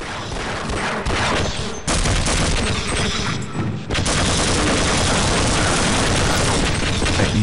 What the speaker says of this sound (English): Okay, so that is shooting at me.